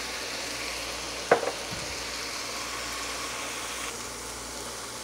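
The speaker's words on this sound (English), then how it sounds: "So once you saute the lentils for a little bit" Lentils and paprika sauté in a hot pan, giving a steady, moderately loud sizzle that runs the whole time, broken once early by a brief clatter of stirring, with no one talking.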